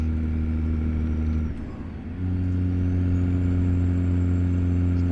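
A Kenworth W900 semi truck in American Truck Simulator hauls a chemical tanker, its engine droning loud and steady with a strong low hum. It briefly dips as if shifting gears, then resumes its even, close drone.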